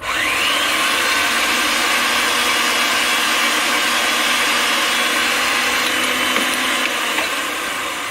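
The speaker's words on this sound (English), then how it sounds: "Okay, open your cutter. Now we're going to cut it." A pipe cutter working on a pipe turning in a Ridgid 300 threading machine, with the machine's loud, steady motor drone running unbroken throughout and a faint high squeal in the background.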